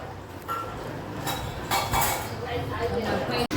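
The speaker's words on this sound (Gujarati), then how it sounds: "અમારા પ્રયાગભાઈ વાસણ ઉટકાવવા બે ગયા છે" Dishes and pots clink and clatter in short bursts over a steady background hum, with water-like noise underneath.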